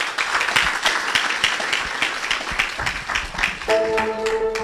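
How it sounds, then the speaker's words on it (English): A round of audience applause at a city dialogue session, with steady sharp clapping from many hands throughout and a short musical tone entering near the end. "A round of applause."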